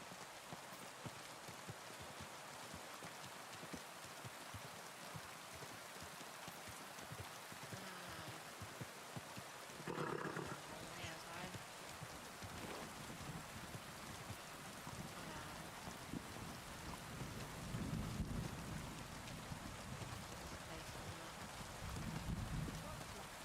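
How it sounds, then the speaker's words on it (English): Steady rain patters throughout in the video game Kingdom Come: Deliverance II, a dense hiss with brief louder swells, heard alone without talk. "Oh, why does it have to be raining?"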